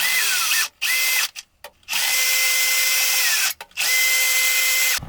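Power drill whirring in steady bursts while fastening screws onto the side plates of a new car radio for a Toyota Tundra, loud and close, with short pauses between runs.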